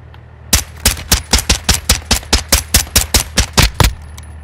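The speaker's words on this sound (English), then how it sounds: "You are taking effective fire." Rapid automatic gunfire in the video game Call of Duty Warzone, a loud, close burst of about fifteen evenly spaced shots that stops abruptly, with no talk over it.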